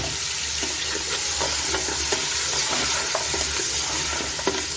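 Mutton sizzling and frying in a pressure cooker, with occasional scraping clicks of a spoon stirring, close and even throughout.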